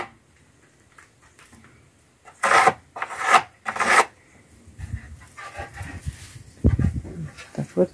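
A saw cuts a wooden board for a door in short bursts of harsh rasping strokes, with quieter rustling and knocking between them and a dog barking nearby.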